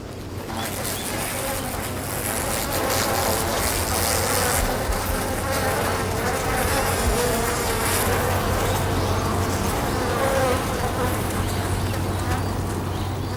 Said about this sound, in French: font vibrer leurs ailes pour émettre un bruit qui effraie l'ennemi